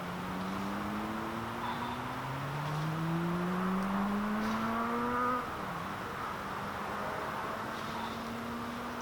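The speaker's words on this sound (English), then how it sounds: "can probably hear the noise, the road noise" Steady wash of distant road traffic from a busy main road heard from a UK wild campsite, with a vehicle engine rising and falling in pitch as it passes, continuous and moderately faint.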